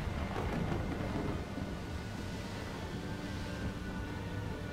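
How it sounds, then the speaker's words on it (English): A rainstorm in the video game Syberia 3 hisses as a steady, dense roar of rain with a low rumbling undertone, loud and continuous throughout, with no voices. "Oh, it's raining a storm out there."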